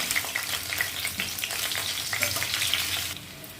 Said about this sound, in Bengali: আলুগুলোকে বেশ লালচে করে ভেজে তুলে নেব।